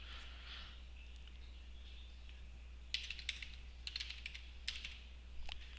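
Password being typed on a computer keyboard: faint clusters of quick, light key clicks in short bursts over a steady low hum, no voices.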